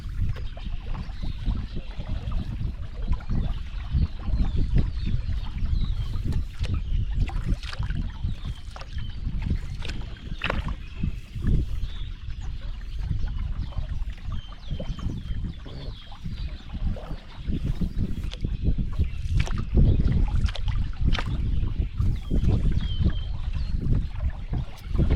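A solo canoe paddled down the AuSable River, with steady water swishing and splashing against the hull, wind noise over the microphone throughout, and no talking.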